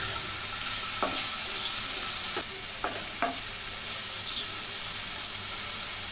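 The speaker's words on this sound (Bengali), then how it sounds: "দিয়ে ভালো করে আরও কিছুক্ষণ সময় ধরে নেড়ে চেড়ে ভেজে নেব।" Potatoes and onions fry together in oil with salt, a steady sizzle broken by several sharp scrapes and clacks of a spatula stirring the pan, close and clear with no voices.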